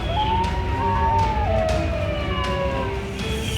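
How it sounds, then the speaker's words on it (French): Coyotes howling at night in Texas, rising and falling wavering wails that overlap into a chorus, heard at a distance over a steady low background rumble. "on entend les coyotes hurler au loin"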